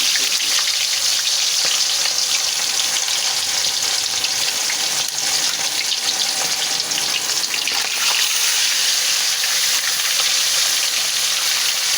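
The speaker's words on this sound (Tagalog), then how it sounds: "magpirito na po tayo ng isda" Fish fries in a pan with a loud, continuous crackling sizzle of hot oil, close and steady throughout, with no voices.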